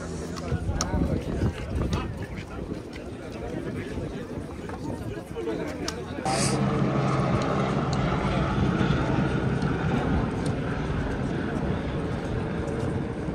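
Helicopter engine and rotor noise at Kedarnath fills the scene as a steady loud drone that grows stronger midway, with people chattering throughout.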